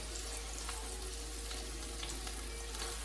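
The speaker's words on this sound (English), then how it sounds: "I'm just gonna take each one of those turkey burgers and lay them in the pan. You'll love to hear that sizzle." Turkey burgers frying in olive oil in a pan give a steady, close crackling sizzle that holds level throughout, with no talking over it.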